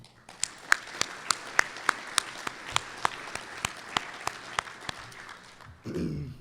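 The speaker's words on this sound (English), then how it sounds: "I think everybody needs a round of applause, please." At an awards and hall of champions banquet, a small audience gives sparse applause for the volunteers, distinct evenly spaced claps standing out, ending as a voice begins speaking.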